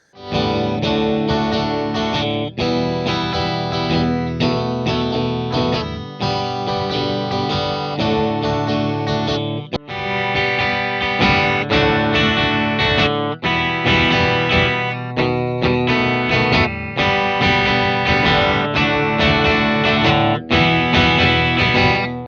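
Heavily saturated electric guitar through a boost pedal into a clean amp pushed into natural saturation, playing continuous chords and riffs, thick and loud, overdriven tone throughout and no talking.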